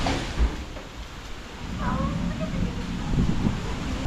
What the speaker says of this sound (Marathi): पण आज जास्त वारा आहे.